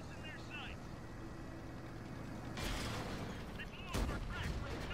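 Tank cannon shots in a video game boom twice, a few seconds apart, fairly loud with a rumbling tail over a steady engine drone.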